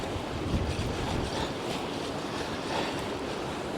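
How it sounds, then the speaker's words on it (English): Strong, relentless wind blows across a winter beach during bass fishing, a dense, unbroken roar buffeting the microphone with surf-like rumble underneath, loud and steady throughout with no voices. "this wind is relentless"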